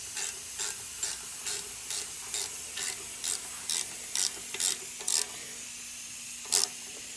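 A ratchet tightens thin 12 mm replacement rear brake caliper bolts on a 2007 Jeep Commander, clicking in a steady series of about a dozen close, even bursts, then a pause and one final burst, with no talking.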